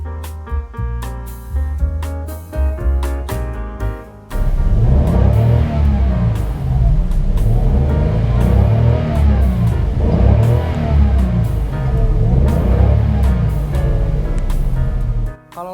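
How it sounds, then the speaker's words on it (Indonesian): A Toyota Agya 1.0 three-cylinder engine revs hard while the car drives. Its gritty, throbbing drone rises and falls steadily for over ten seconds and follows a brief stretch of music. "agar lo bisa denger suara khas 3 silinder yang merdu"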